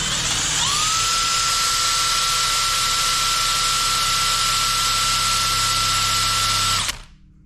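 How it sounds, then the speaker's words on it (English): Electric drill spinning a pre-war Riley Brooklands car dynamo at full speed, around 2000 RPM: a steady, loud high-pitched whine that rises as it spins up, holds constant for several seconds, then cuts off abruptly near the end. "This drill will do about 2000 RPM at full speed"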